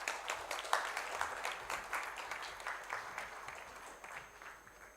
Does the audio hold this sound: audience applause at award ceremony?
yes